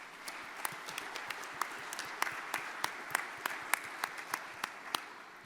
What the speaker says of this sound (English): If you would, a round of applause for those folks.